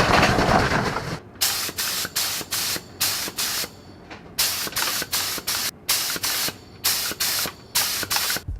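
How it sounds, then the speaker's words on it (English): A spray gun blasts acrylic polyurethane primer onto an EVA foam helmet in a series of short, loud hissing bursts with brief pauses between them, close and alone. "I'm going to be spraying it out of the spray gun."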